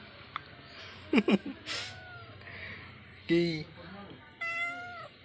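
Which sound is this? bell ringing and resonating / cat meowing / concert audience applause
cat meowing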